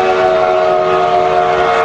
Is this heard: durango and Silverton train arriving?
yes